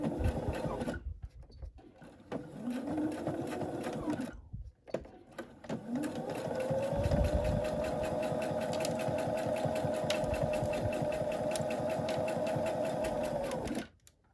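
A sewing machine stitches fleece hat crown pieces together with a 1/4 inch seam allowance, running in short bursts with gaps, then one long steady whirring run.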